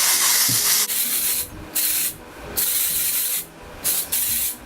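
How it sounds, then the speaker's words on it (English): Drugstore dry shampoo sprays onto hair in several loud, close hissing bursts, each a second or so long, separated by short pauses. "So I literally spray it like everywhere."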